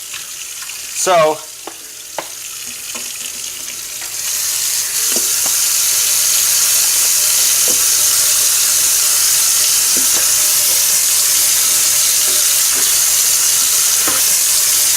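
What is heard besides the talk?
washing a salad bowl under the tap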